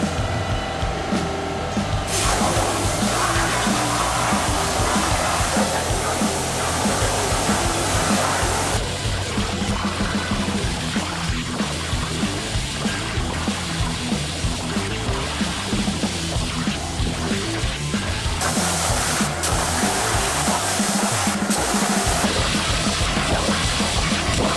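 A plasma CNC cutting machine runs continuously in a metal workshop, a loud steady hissing roar with shifting tonal layers as cuts start and stop, no speech.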